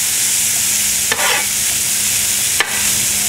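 Onions with balsamic vinegar sizzle and fry in a pan, a steady close crackle broken by two short scraping stirs of the spatula.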